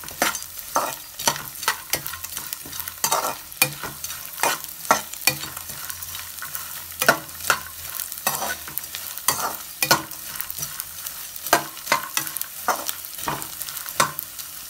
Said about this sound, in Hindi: हाई फ्लेम पे हमें फ्राई करना है, गोंद हमारे फूल जाए अच्छे से, और जल्दी जल्दी हमें इसको चलाते रहना है।